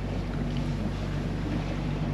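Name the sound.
sailboat motoring with mainsail up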